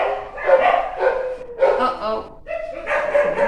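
Several dogs bark repeatedly in uneven bursts nearby, loud yaps and woofs filling the stretch while a voice briefly speaks among them.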